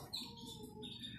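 Quiet, high chirps and tweets from small caged birds repeat in short bursts over a soft background hum.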